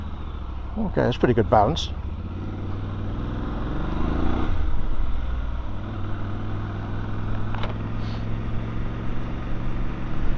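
A Voge DS800X Rally motorcycle being ridden, a steady engine drone rising and falling through gear changes under wind noise, with a rider talking early on.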